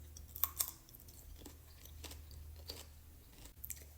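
Asparagus with cottage cheese and mustard is chewed close to the mic. Soft wet crunches and bites come in irregular bursts over a quiet background, with no talk.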